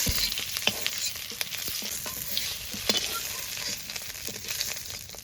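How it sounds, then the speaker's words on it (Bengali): Eggs fry in a pan with turmeric while being stirred, a soft continuous sizzle punctuated by scattered scraping clicks of the spatula, close and fairly quiet with no talking. "এবার নেড়ে চেড়ে ডিমগুলোকে ভালো করে ভেজে নেব"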